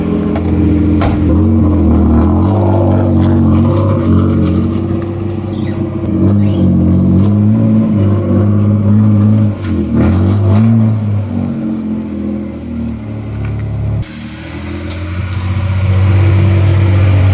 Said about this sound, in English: Running! Woo! Wow, first try.